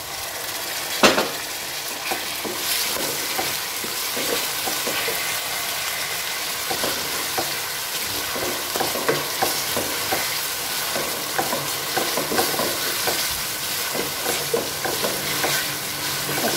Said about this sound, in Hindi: अच्छी तरह से बुनाई करेंगे ताकि टमाटर जो हैं वो मेल्ट होके सॉफ्ट होके बिल्कुल अपनी मेल्ट हो जाएंगे।